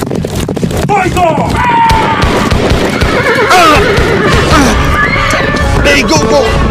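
Horses neigh and whinny repeatedly in a loud, chaotic drama scene, with hoofbeats, shouting voices and clatter layered throughout.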